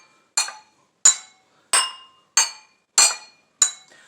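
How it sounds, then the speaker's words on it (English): Six clear, ringing taps of a metal spoon on glasses of water, evenly spaced with short decaying tones and silence between them. "Let's try it with a metal spoon."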